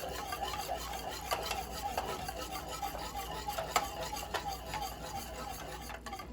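Plantain porridge whisked in a pot over medium-low heat, a quiet repetitive scraping and swishing with rhythmic strokes against the pot, close and faint, with no talking.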